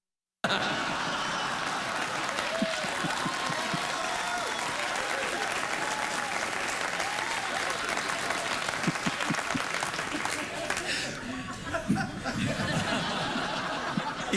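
Studio audience of a late-night talk show applauding in a long, dense, steady wash of clapping with some scattered chuckles and crowd murmur mixed in, moderately distant.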